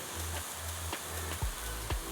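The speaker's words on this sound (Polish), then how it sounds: "Boczniak podsmażyć się około 5 do 8 minut na dużym ogniu." Oyster mushrooms with onion, oregano, cumin and smoked and sweet paprika frying over high heat, a continuous sizzle broken by a few soft thumps of stirring, heard alone without speech.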